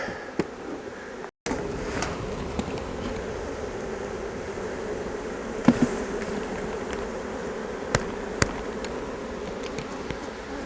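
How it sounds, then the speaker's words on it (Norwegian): A steady drone of many honeybees being shaken down into a split hive, close and constant, with scattered sharp knocks and taps from the hive boxes and one brief dropout. "Av med biene ned i avleggeren."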